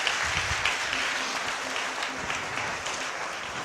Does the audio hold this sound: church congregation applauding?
yes